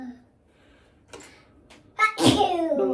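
A single sneeze erupts indoors during a hair-care wash day after a quiet stretch with a few faint sounds. It is a sudden, loud, close burst that trails off into breathy noise.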